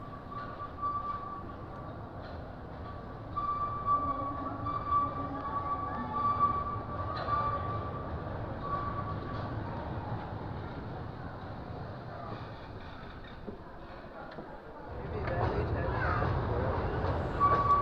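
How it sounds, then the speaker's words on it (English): A train rumbles steadily in an enclosed underground mine space, with a faint tonal whine running through and a louder surge near the end as it draws in. "we were waiting for the train to arrive"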